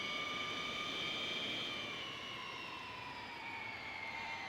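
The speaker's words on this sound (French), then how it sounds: "Le voilà, le bruit des motos électriques" Electric motorcycle in MotoGP 19, a steady high-pitched electric whine with slowly shifting tones over a constant rushing background, sustained and fairly quiet, no talking.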